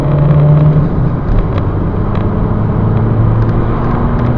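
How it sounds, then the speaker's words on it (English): A 2008 Jaguar X-Type SE 2.0, a front-wheel-drive saloon, accelerating hard from a standstill in a 0 to 60 run, with a loud steady engine drone heard from inside the car and no talking. "Do a 0 to 60 test. 3, 2, 1, go."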